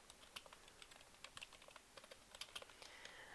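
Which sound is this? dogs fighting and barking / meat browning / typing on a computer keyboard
typing on a computer keyboard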